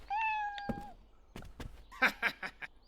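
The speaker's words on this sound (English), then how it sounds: "There's cats." Cats in a shop in the video game Lost Odyssey meow clearly, a long drawn-out mew followed by several shorter, sharper cries, close and prominent with no talking.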